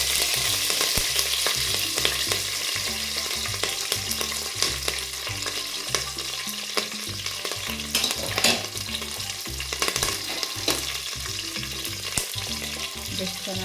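Garlic and curry leaves fry steadily in hot oil, a continuous close sizzle with repeated stirring scrapes and clinks of a spoon against the pan.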